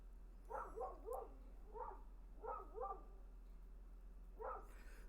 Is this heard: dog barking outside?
yes